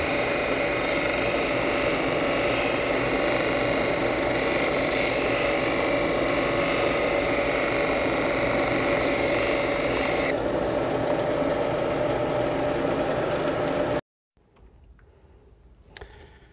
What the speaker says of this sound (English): I'm just working on grinding them off with a coarse sandpaper.